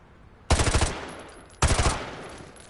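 Two loud, close gunshots in Call of Duty: Modern Warfare, each a sharp blast with a brief rolling echo, about a second apart, alone without talk.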